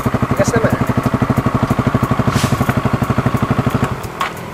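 A motorcycle with a worn, slipping clutch lining throbs in close, loud, rhythmic engine pulses during a hard gear shift, the beat changing and dropping away near the end.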